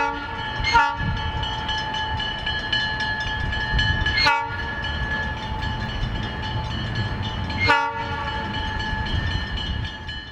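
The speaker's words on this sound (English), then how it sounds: "the crew brings the train into the yard to be serviced and prepared for the next dinner train later in the evening." An ALCO diesel locomotive pulling a Napa Valley dinner train rolls into the yard, its engine rumbling steadily close by while the horn sounds three separate times.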